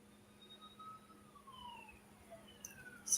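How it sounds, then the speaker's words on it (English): Police siren playing from a television in a distant room of a house, a faint wailing tone rising and falling under quiet room noise. "I just heard a siren."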